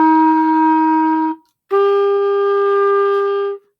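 A band instrument plays two separately tongued notes, a sustained higher tone then a lower one, with a clear gap of silence between them; bright, harmonic and close, no voices.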